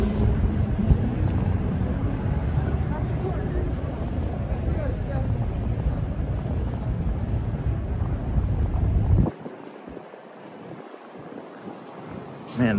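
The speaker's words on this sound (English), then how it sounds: "Man, the wind is starting to pick up again." Night wind gusting through midtown Manhattan, a loud, rushing buffet over the microphone that persists for about nine seconds before dropping away, with a voice speaking beneath it.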